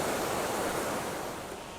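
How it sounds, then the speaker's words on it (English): Loud, constant rushing water from a stream near a trail campsite on the Pacific Crest Trail, a dense unbroken roar with no voices. "Hopefully you can hear me with all that water noise."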